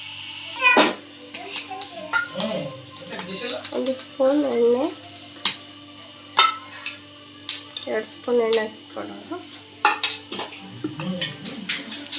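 Mustard seeds and cumin sizzle and pop in hot oil in a home kitchen, with scattered crackles and spoon stirring against the pan under intermittent talking.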